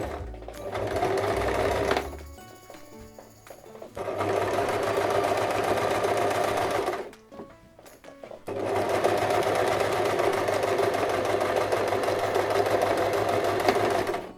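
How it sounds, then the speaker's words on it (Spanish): A sewing machine runs a straight stitch along the edge of fabric while a crossbody bag with a zipper is being made. Loud, steady motor whirring comes in three long runs, broken by short pauses where the stitching is backtacked at the start and finish. "en la máquina de coser coseremos recto, rematando al principio y al final"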